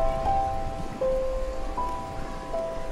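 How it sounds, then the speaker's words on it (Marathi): Steady rain falls outside in Goregaon during the monsoon, a dense, even patter that runs through the whole stretch, with a few faint sustained tones drifting over it. "पाऊस पडतोय म्हणून आपलं प्लॅन रेडीच असतात."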